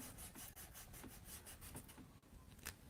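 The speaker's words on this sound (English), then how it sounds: "Using a kneaded art gum eraser." A kneaded art gum eraser rubs across paper in quick, repeated strokes, producing a faint, rhythmic scrubbing heard up close.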